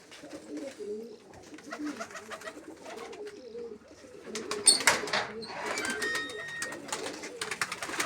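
Pet pigeons, some with young, cooing in soft repeated calls close by, with rustling, wingbeats and other household noise, growing busier and louder in the second half.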